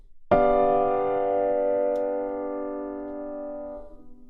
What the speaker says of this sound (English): So if I play that all together just to see the chord shape